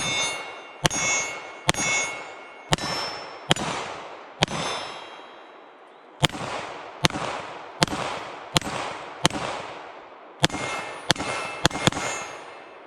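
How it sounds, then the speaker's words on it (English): A Canik Rival-S steel-frame 9mm pistol fires about fourteen loud, sharp shots at an uneven pace, each one ringing out with a short echoing tail, some fired in quick pairs and others spaced by brief pauses. "All right, I'm gonna take my first shots with the Rival-S"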